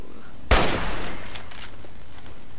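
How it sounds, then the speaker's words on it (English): A single sharp, loud gunshot blast from an enemy in Fallout 3, followed by a short decaying rumble and faint scattered echoes. "Why did you start shooting at me like that?"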